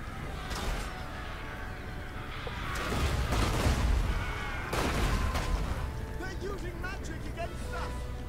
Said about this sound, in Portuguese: Devolver o tiro de artilharia que eles estão dando na gente.